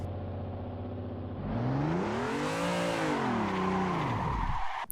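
A car in the Assetto Corsa racing game revs steadily, then breaks into a loud swelling tire squeal as the engine pitch rises and falls through a spin-out, cutting off abruptly at the end.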